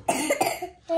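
A child coughs several times in quick succession at close range, a few sharp, hoarse bursts followed by a short voiced sound.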